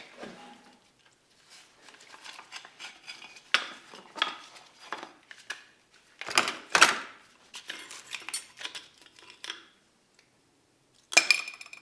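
Metal parts from a scrapyard GMC Sierra Silverado 4L60E transmission's reverse clutch pack are handled, giving scattered metallic clinks, clatters and jangles in short bursts separated by quiet pauses.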